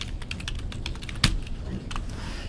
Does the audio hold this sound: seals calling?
no